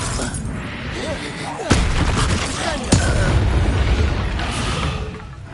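Confringo fire curses burst in Hogwarts Legacy as two sharp, loud booms, a few seconds apart, over a rumbling combat background.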